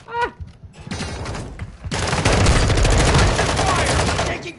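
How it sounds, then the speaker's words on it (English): Gunfire in a Rainbow Six video game, a loud sustained fusillade of rapid automatic shots that thickens into dense continuous fire, with a shout early on. "Taking fire!"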